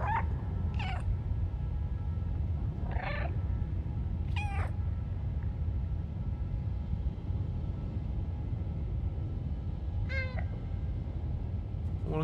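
A cat meows in the video game Stray, giving about five short, clear meows at irregular intervals over a steady low rumbling ambience, with no talking.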